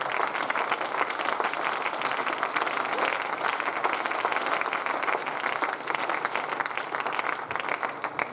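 A church congregation applauds and cheers in praise, a dense, steady wash of clapping and crowd voices that stays loud and continuous from start to finish.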